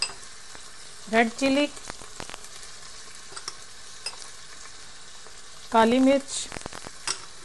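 Onion, ginger, garlic, tomato and spices frying in a pan for a rajma curry, a steady close sizzle with occasional stirring scrapes, while someone talks briefly twice over it.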